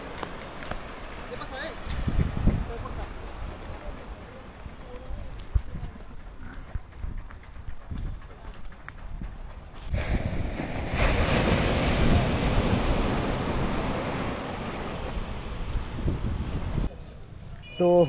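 Sea waves at Digha beach on the Bengal coast, a steady broadband surf wash that swells into a louder, fuller roar midway, with wind buffeting the microphone and faint voices mixed in.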